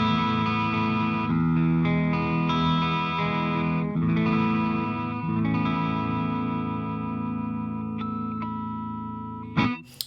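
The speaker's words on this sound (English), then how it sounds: "So it's just a kind of cleanish, little bit broken up sound." An electric guitar plugged straight in plays a clean, slightly broken-up tone, with sustained ringing chords and notes that are loud and continuous before cutting off abruptly at the end.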